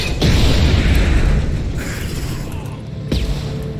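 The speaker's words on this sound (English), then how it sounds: "He just took a grenade to the face." A grenade explodes in the Mass Effect 2 video game, a loud booming blast with rumbling debris that fades into lingering battle noise, followed by a second sharp impact near the end.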